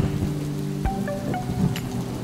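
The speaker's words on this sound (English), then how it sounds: "I just had to wait for the rain to ease up just a little bit" Heavy rain falls steadily outdoors during a cycling trip from Singapore toward Tokyo, a dense continuous wash of noise with a few brief knocks and tones mixed in and no speech.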